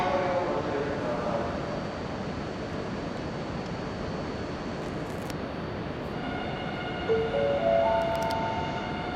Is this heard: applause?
no